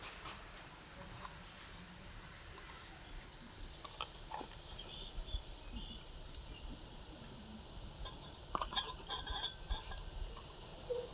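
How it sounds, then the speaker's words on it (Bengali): Fish pieces rubbed with salt and turmeric fry in a pan, giving a faint, steady sizzle with occasional soft stirring clatter close by. "প্রথমে মাছগুলো ভেজে নেব"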